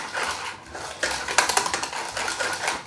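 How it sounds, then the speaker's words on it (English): Set jam gets whisked briskly in a bowl, producing quick, irregular metallic clicks and scrapes close by, with no talking. "And once I give it a whisk"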